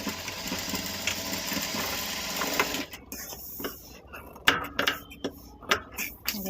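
A sewing machine stitching a round fabric handbag runs in a steady continuous whir for about three seconds, then stops, followed by light clicks and handling noises.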